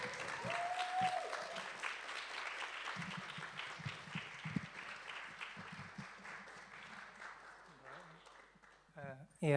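Applause for a poet at an online poetry jam, a soft, continuous patter of clapping that gradually thins out, with a voice breaking in at the very end.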